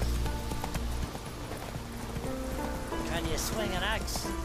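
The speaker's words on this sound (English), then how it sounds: "God, the horse keeps stopping." Horse hooves clip-clop in The Witcher video game, a steady rhythmic trot under game music and character voices, fairly faint in the mix, with a brief whinny-like sound near the end.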